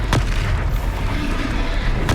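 A Confringo fire spell explodes in a wizard video game, giving booming, blast-like bursts near the start and end over a continuous loud rumble of game sound.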